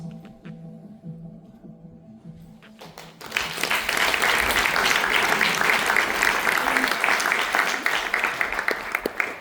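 After a quiet opening with tones and a voice, an audience breaks into dense, steady applause for a young filmmaker that carries on evenly to the end.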